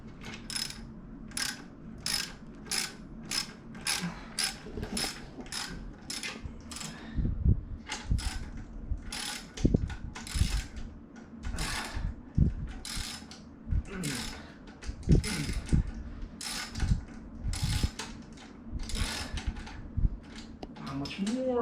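A ratchet clicks in quick repeated bursts while tightening the clamp bolts of an AEM super clamp on a Ducati V4R motorcycle, loud and close, with brief pauses between strokes and knocks and handling noises at low pitch.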